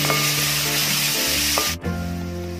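Onions sautéing with ginger-garlic paste and curry leaves in a pan, a continuous close sizzle with rubbing stirs, a brief dip in the middle before the frying resumes, no talking.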